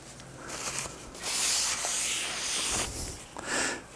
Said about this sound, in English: We'll get it sanded.